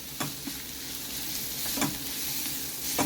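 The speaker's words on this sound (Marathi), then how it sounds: "मंदविस्तवर हे थोडंसं आपण आता परतून घेणार आहोत." Bombil (Bombay duck) fish sautés in oil over a low flame for a Mumbai Saraswat bhujane, giving a steady close sizzle with a few sharp spatula scrapes against the pan.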